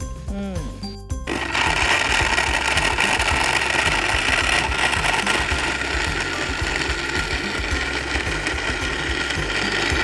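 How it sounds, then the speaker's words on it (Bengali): A blender purees a rich date smoothie. After a brief voice at the start, a loud, continuous motor roar with a rattling, grinding texture takes over and runs to the end. "সব উপকরণ তো দিয়ে দিলে, এখন কি করবে? এখন ব্লেন্ড করব।"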